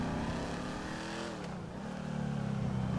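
A car engine in GTA Online revs loudly and continuously, rising and falling in pitch as it accelerates, close and dominant with no talking over it.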